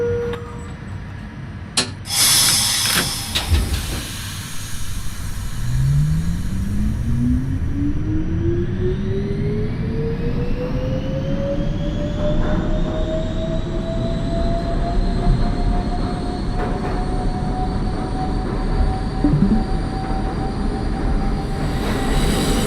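An NYC Subway R68 train on the B line toward Brighton Beach, simulated in OpenBVE, accelerates with a rising motor whine over steady wheel and rail rumble, loud and continuous with a few clanks early on.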